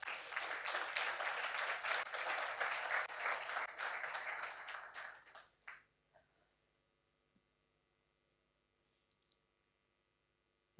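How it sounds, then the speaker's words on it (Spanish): A church congregation claps for about five seconds in a full, fairly distant burst of applause, which tapers off into near silence with a few faint scattered sounds. "Si quiere darle un aplauso al Señor,"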